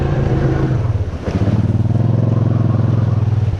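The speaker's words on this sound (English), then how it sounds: "See, I'm spinning my tires on it right now." Vehicle engine revving hard and steady, loud and close, while its tires spin and dig in a creek with the front wheels off the ground, a brief dip in the middle before the roar resumes.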